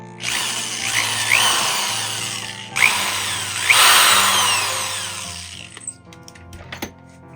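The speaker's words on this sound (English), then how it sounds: "We can just drill them out to the same size." An electric drill whines in several loud bursts, biting into a Les Paul-style guitar headstock to enlarge tuner holes, with rising and falling pitch, then winds down and stops.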